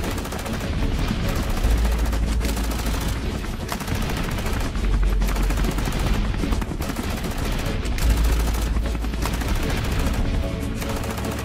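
Loud, continuous cartoon gunfire rattles in steady automatic bursts as soldiers are shot down in an animated fight scene. A low background score plays underneath and nobody speaks.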